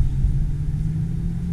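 A McLaren 570S sports car idles nearby, its engine a steady low rumble that holds even throughout with no sharp revs, heard alone without voices.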